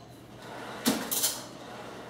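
A spoon stirring in a bowl makes two brief clinking scrapes close by, then quiet.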